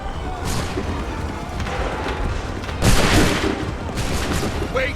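Musket volley fired in Assassin's Creed III, a dense burst of overlapping gunfire that peaks midway, with crackling shots continuing around it under battle noise and shouting.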